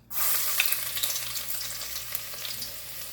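Garlic hits hot oil in a pan with a sudden loud sizzle that starts abruptly, then settles into a steady crackling fry with small pops, close up and with no voices.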